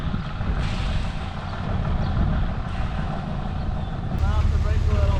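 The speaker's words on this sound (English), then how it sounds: "It's got a rust hole exhaust." A Ford Ranger engine idles roughly through a rusted-through exhaust, a loud continuous low rumble with a brief higher whine near the end.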